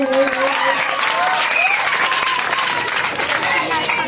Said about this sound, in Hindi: जोरदार ताली लगाएंगे।